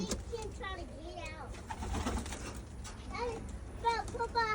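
Pigeons coo and call from inside a vent, soft rising-and-falling warbles that repeat in short bursts, while people talk over them nearby.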